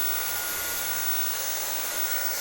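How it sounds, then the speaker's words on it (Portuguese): A handheld hair dryer blows continuously during a salon brush blow-dry, a loud, steady, hissing rush of air with a constant motor whine, close by and uninterrupted, with no talking. "antes de eu colocar o secador"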